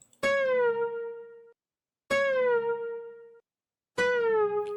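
Three plucked guitar notes ring out one after another, each sustaining briefly with bright harmonics before cutting to silence.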